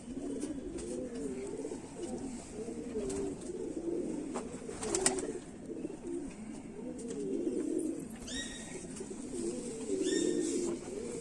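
Kante-wale or jhumke-wale Kamagar pigeons coo steadily in low, rolling phrases, several birds overlapping close by, with faint chirps and a few brief clicks over a constant background hum.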